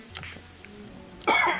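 A single sharp cough bursts out near the end, close and loud after a quieter stretch with faint background sound.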